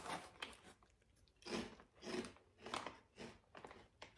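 Someone munches spicy cuttlefish flavored crackers up close, a series of crisp crunching bites and chews repeating at an uneven pace, faint overall.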